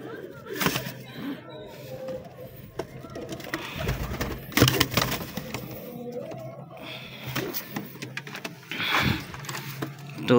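Pigeons cooing in a loft where birds are nesting, several soft coos and wing flutters close by, mixed with someone talking and occasional clatter.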